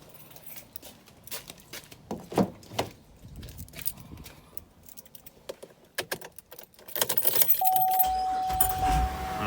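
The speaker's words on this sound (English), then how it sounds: "I'm gonna turn on my car and see." Keys jangling and clicking in the ignition of a 2014 GMC Acadia Denali, close and sharp, followed by the engine starting and settling into a steady idle for the final seconds.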